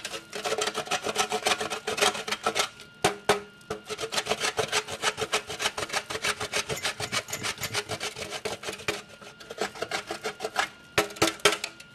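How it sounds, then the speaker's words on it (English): Natural cane sugar grated by hand over cream, a steady run of rapid dry rasping strokes, close and continuous with brief pauses, no talking. "I have a beautiful piece of natural cane sugar that I am going to grate on top of my cream"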